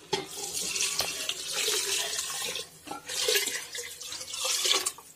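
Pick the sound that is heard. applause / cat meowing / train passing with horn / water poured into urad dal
water poured into urad dal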